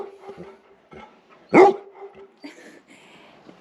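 A guard dog at a home in Abaco, Bahamas gives one sharp close bark amid quieter background noise and faint scattered sounds.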